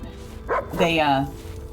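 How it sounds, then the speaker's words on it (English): A dog in the survival game Enshrouded gives a short, close bark-like yelp, heard once amid quiet game ambience with a faint voice nearby. "Oh, hello, dog."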